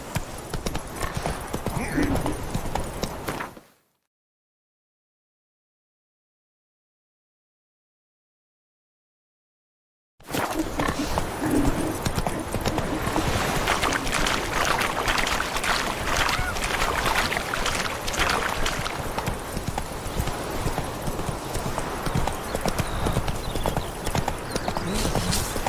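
Hooves of Geralt's horse Roach galloping in The Witcher 3, a fast, steady clip-clop that runs close and continuous, broken by several seconds of silence partway through.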